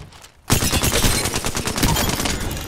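Rapid, loud bursts of automatic gunfire from an Apex Legends firefight during a third-party fight, dense overlapping shots crackling continuously after a brief quiet start.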